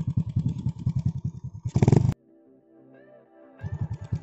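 An RS 125 motorcycle fitted with an Apido Powerpipe exhaust revs in sharp, rapid bursts, goes quiet, then revs again, loud and close with no talking.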